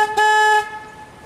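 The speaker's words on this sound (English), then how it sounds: "I'll be honking my horn." A river tour boat on the San Antonio River sounds its horn in one clear, loud, steady tonal blast of about half a second, preceded by a faint short toot, with no talking.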